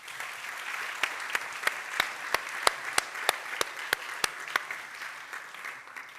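An audience applauds at a European heritage awards ceremony. The clapping is sustained, with a run of sharp, regular knocks or claps that stand out above it before easing off near the end.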